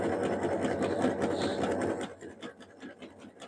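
A sewing machine runs steadily while stitching a jelly roll rug, its fast mechanical whir continuous and close for about two seconds before slowing into a few shorter, stuttering bursts.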